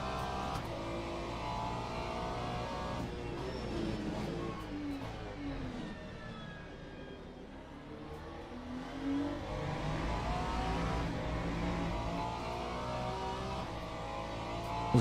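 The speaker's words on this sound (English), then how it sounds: "There's a BMW behind me catching up as well." GT3 race cars at Portimao in the sim racing game Le Mans Ultimate: engines rev up and down through gear changes, with a dip and then rising acceleration, steady and moderately loud.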